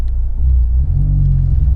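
A Honda Civic Type-R FK8 on coilovers drives along, heard from inside as a loud, steady low rumble of engine and road noise with no talking.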